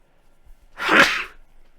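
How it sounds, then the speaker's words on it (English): A single loud sneeze bursts out close by from a race commentator, swelling and fading over about half a second with near silence before and after. "Gotta sneeze, I think."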